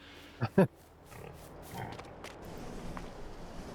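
Pigs in a realistic farm simulation game give two quick close grunts early on, then soft ambient farm noise continues at low level.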